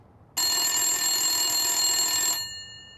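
A telephone rings in the 2009 horror film The House of the Devil, one loud continuous electric bell ring lasting about two seconds, then cutting off with a brief ringing tail, heard alone without talk.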